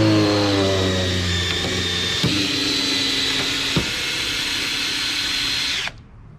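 A power drill strains as it drives a cone splitter kindling auger into a wood log, a loud, steady whine with shifting pitch, a couple of sharp cracks from the splitting wood, then the motor cuts off abruptly.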